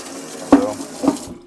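Water runs from a newly plumbed single-handle kitchen faucet with a sprayer, a short hiss of flow with two brief splashy bursts, close and fairly loud with no talk.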